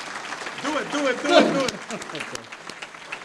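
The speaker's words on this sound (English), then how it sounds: "can we get a round of applause" Applause from a banquet audience swells briefly and fades, heard under a speaker's voice in a reverberant hall.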